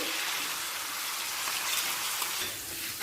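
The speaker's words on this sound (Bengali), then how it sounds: "হালকা লাল করে ভাজা হয়ে গেছে" Chopped onions frying in hot mustard oil with a bay leaf and whole spice, giving a steady, close hiss of sizzling that fills the whole stretch, with a small clatter at the end.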